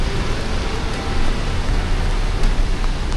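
Steady rain falls at Bondi Beach as a loud, dense hiss with a low rumble beneath it and a few faint drop ticks, no voices.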